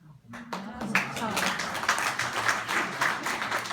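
Audience at a rabbi's talk breaking into applause, a dense burst of many hands clapping that starts abruptly and continues steadily, with speech mixed in.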